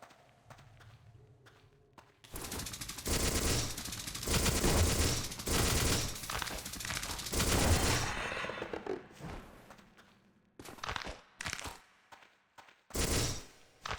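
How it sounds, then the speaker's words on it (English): Rapid bursts of video game gunfire as seeds are shot at an enemy, loud dense volleys for several seconds, then quieter clicks and short renewed bursts, no talking. "I'm shooting like seeds at the guy"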